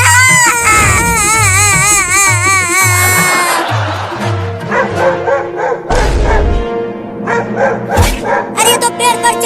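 A dog barks and yelps repeatedly and loudly against busy background sound that includes a crying voice, and the sharp barks come in clusters through the second half.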